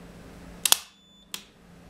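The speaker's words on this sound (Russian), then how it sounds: "Отключился автомат." A modular circuit breaker trips during a high-current overcurrent test, giving a sharp double mechanical snap followed half a second later by a second crisp click, close and loud over a faint electrical hum.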